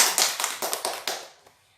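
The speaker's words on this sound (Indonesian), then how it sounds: "Berikan tepuk tangan untuk Bu Ika" A small group at a child protection training simulation gives a short burst of clapping for a participant, a handful of sharp close claps that thin out and stop within about a second and a half.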